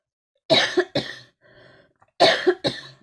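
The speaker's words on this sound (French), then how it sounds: "il y a un truc qui me fait tousser." A person coughs twice in a quick pair, pauses with a faint throat sound, then coughs twice more, close and loud.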